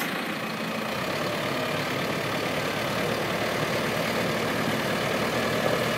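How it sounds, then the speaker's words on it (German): A heavy 140-horsepower tractor engine drones continuously at close range, a dense, rumbling roar holding steady throughout with no voices. "Ein schwerer, großer Traktor."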